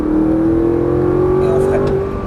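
An Audi R8 accelerates on a race track, its engine note loud and close as it climbs steadily in pitch, a smooth rising drone with a brief whir near the end.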